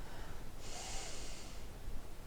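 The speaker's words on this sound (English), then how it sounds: "Breathing in" Single audible inhale through the nose during a yoga session, a soft, close breath lasting about a second, alone in quiet surroundings.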